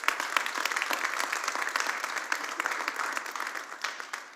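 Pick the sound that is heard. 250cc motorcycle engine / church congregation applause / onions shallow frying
church congregation applause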